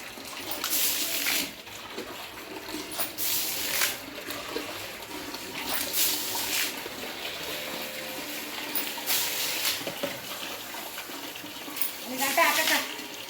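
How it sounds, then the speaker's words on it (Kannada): Water is splashed and poured onto a house doorstep, a close swishing and gushing in repeated bursts every couple of seconds, with a voice talking in between. "ಅದಕ್ಕೆ ಈಗ ಹಾಕ್ತಾ ಇದ್ದಾರೆ ನಮ್ಮಮ್ಮ ಬಾಗಿಲಿಗೆ ನೀರು"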